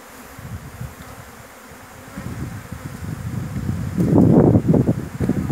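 Honeybees buzzing while being shaken from a Langstroth hive into another box, a close low droning that swells louder and busier near the end, with wind noise against the microphone.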